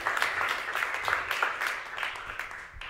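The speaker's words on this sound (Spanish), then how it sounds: "Fuerte el aplauso, por favor," Audience clapping at a literary event held by a national library, a moderate steady patter of many hands lasting a few seconds, with faint background murmur.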